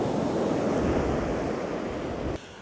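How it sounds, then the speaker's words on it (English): Ocean waves surging onto a beach near a sea cave and rocks, a continuous loud roar of surf and foam that drops slightly at the end, with no voices. "And as the waves coming in right now"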